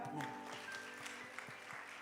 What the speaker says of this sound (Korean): 우리 내려가실 때까지 박수하실까요?